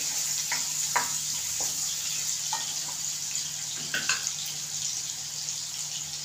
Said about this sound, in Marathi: कांदा चांगला लाल केला